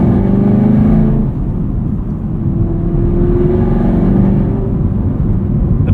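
A modified 2022 Chevrolet Camaro SS 1LE V8 revving close by, a loud deep rumbling exhaust note whose pitch climbs, dips and climbs again in steady sweeps, with no talk over it.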